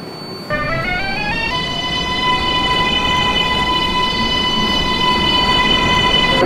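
An R188 subway car on New York's 7 line pulls away, its motors rising through stepped, whining tones that settle into a steady hum over loud, continuous rumbling rail noise.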